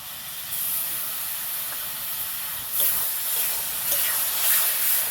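Tomato paste and fried onions cook down in a pan for a meat ghugni, a steady bright hiss and sizzle with a few louder bursts of steam near the end.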